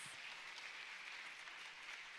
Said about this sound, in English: So just give everyone a round of applause.